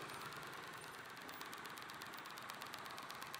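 A 2017 Triumph Street Twin motorcycle engine running steadily at low revs while ridden very slowly off-road, a continuous near rumble with a faint rhythmic pulse and no talk.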